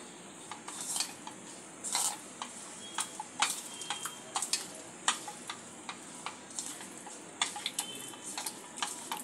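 Chicken is mixed by hand in a bowl with cornflour and other ingredients, giving irregular wet clicks and taps against the bowl, close and fairly quiet, with no talk.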